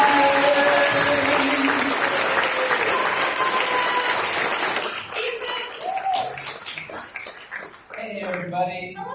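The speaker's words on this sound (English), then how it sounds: "So let's give them a big round of applause." Loud, dense applause from a live workshop audience welcoming the hosts, steady clapping filling the room before thinning into scattered claps as a voice begins talking near the end.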